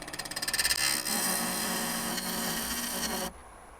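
A skew chisel takes a peel cut on spinning bocote wood on a lathe, giving a steady, close scraping hiss that builds in quick pulses, holds for a few seconds, then stops abruptly.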